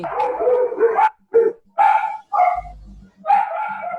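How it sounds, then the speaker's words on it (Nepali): A dog barks through an online video call in several short, loud bursts separated by brief pauses, with a faint voice in the background. "शान्तिको कुकुर भुकिरहेछ"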